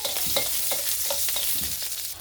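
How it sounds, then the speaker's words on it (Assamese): Finely chopped onion sizzles in hot mustard oil in a wok, a continuous close crackling fry broken by a few soft scraping stirs, with no voices. "মই ইয়াতে এটা পিঁয়াজ সৰু সৰুকৈ কাটি পূৰণ দি দিছোঁ।"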